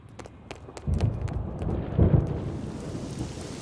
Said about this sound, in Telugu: ఫోన్ ఎట్టగానే ఉరుములు మెరుపులు వచ్చేస్తున్నాయంటే వెంటనే వర్షం వచ్చేద్ది